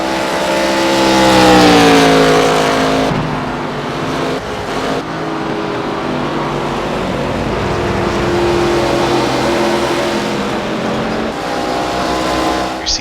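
ARCA Menards Series race car engine in iRacing at Phoenix, a loud sustained roar with shifting pitch as the car laps, other cars droning and passing close by throughout.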